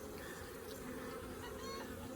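Honey bees from a newly installed package buzz faintly on a hive frame, a steady low drone throughout.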